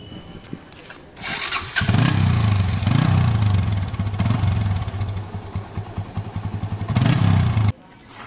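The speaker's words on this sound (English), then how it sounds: "I have connected them to the bike. Now let's see if they start my bike." A motorcycle engine powered by power bank batteries cranks for about a second, catches and roars to life, then runs loud and close in uneven revving bursts before cutting off abruptly.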